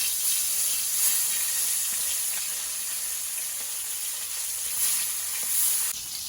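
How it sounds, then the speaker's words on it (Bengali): Large koi fish frying in hot oil in a heated wok, giving a loud, continuous hiss of sizzling that runs evenly throughout, with no voices. "এখন আমি মাছগুলো ভেজে নেব।"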